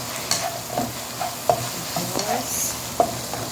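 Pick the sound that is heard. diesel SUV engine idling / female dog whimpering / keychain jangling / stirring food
stirring food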